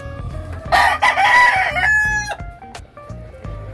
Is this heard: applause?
no